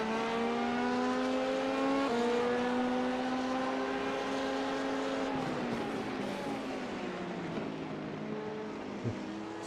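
An LMP2 prototype race car in iRacing at Sebring runs loud and close, its engine drone holding a steady pitch, then shifting and dropping as the car lifts off before the sound fades slightly.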